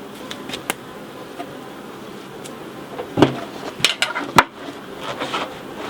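Honeybees drone around an open beehive during a beekeeping inspection, with a faint buzzing bed broken by sharp clicks and knocks of hive frames and equipment.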